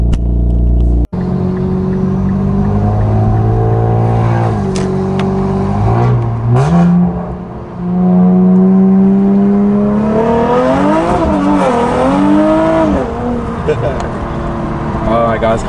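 A turbocharged Infiniti Q50 on air suspension roars loudly up close, revving and accelerating with rising and falling pitch as it shifts through gears, a steady heavy drone throughout.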